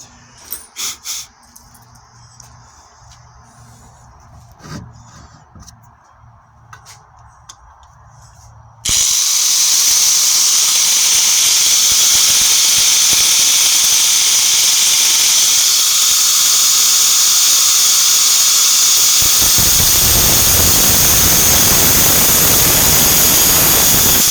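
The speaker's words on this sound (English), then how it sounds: "Whatever cutting device you want to use, I always go with an angle grinder." An angle grinder cuts metal for a homemade flutter spoon, starting after a quiet stretch of faint handling noises into a loud, sustained, harsh hissing whine that continues steadily and grows rougher near the end.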